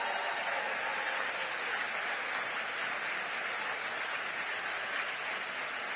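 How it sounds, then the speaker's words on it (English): Sustained audience applause at a gun safety summit, a dense steady wash of many hands clapping at even loudness throughout, with no voices. "Give them a big round of applause"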